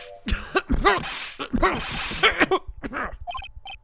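A person clears their throat several times in quick, gravelly bursts, close and loud, followed by a few short clicks.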